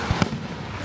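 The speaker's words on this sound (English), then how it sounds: "The fireworks are so cool." Fireworks over Nebraska burst in two quick close booms, the second one louder, followed by a short rumbling decay.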